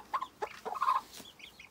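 Hen clucking close by in a short series of quick, irregular clucks and squawks over under two seconds.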